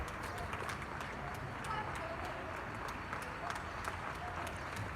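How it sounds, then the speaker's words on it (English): Neighbours applaud from balconies across a quiet Madrid street during the COVID lockdown, a continuous distant patter of many hands clapping with sharp individual claps on top. "Some neighbors, clapping hour."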